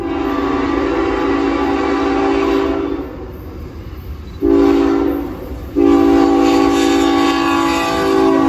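CN freight train passing close by during a railfanning outing, its horn sounding in long, loud, sustained blasts broken by two short gaps, over a continuous rumble of wheels and cars.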